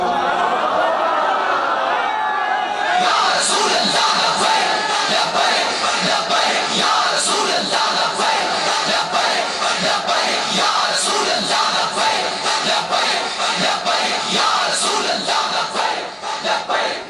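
A large crowd at a religious gathering chants Labbaik slogans in unison, a loud, sustained roar of massed voices with rhythmic surges, rising after a brief stretch of speech at the start and continuing to the end.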